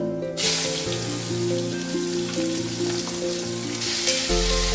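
Loud, crackling sizzle of onions dropped into hot mustard oil with whole spices, a dense steady frying hiss with a brief burst of spattering at the start, close up and alone.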